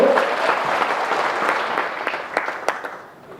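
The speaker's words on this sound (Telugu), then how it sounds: "అందరూ గట్టిగా చప్పట్లు కొయ్" Applause from an audience at a Congress party meeting, a broad steady clapping that holds for a few seconds with scattered louder claps toward the end before fading slightly.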